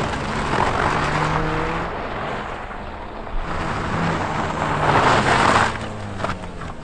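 Peugeot 308 GTi driven on the snow-covered Nürburgring, engine rising and falling through bursts of throttle amid broad hissing road and wind noise, moderately loud without speech.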